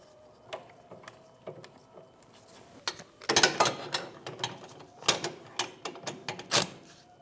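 A ratchet clicks in short bursts while snugging the rear brake caliper bracket bolts on a 2016-2025 Chevrolet Malibu, with close metallic ticking and pauses between strokes.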